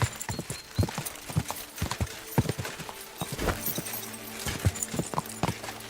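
Horse hooves clip-clop steadily on a street in the medieval town of Kuttenberg in Kingdom Come Deliverance 2, a regular rhythmic stream of clear, close hoofbeats over low ambient game sound, with no talk.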